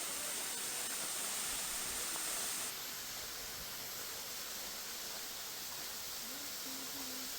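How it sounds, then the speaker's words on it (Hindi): Waterfalls at Pachmarhi, swollen after heavy rain, roar as a dense, continuous wash of rushing water that holds steady throughout with no break. "तो किसी कवि की तरह ये झरने, ये कलकल आवाज़"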